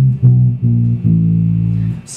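Bass guitar on its thickest string plays a slow descending line of four notes, each sustained and ringing, solo and close.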